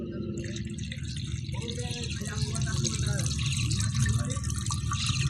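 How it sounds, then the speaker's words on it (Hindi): Water is poured into a pressure cooker of chickpeas for chole, a continuous splashing, gurgling fill that grows slightly louder as it goes, close by. "अब हम कुकर में कर लेंगे पानी ऐड।"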